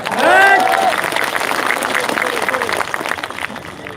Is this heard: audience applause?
yes